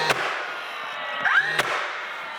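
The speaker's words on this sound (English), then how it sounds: "So all I'm gonna do is just take my nail gun." Nail gun firing nails into a board and batten wall, two sharp percussive snaps about a second and a half apart, with a quiet hum in between.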